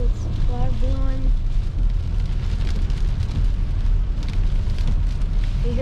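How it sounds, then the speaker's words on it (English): Dense pattering of sleet pellets striking a car body during a windy winter storm, a steady loud hiss with scattered sharp ticks, briefly under a voice at the start. "sleet pellets are bouncing off of the car"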